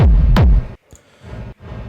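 Hard techno kick drum run through sidechain compression, fully wet reverb and distortion: a loud, booming distorted thump with a sharp transient, then a dip and a wash of reverberant low rumble tailing off.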